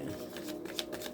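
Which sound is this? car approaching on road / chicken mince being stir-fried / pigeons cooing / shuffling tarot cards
shuffling tarot cards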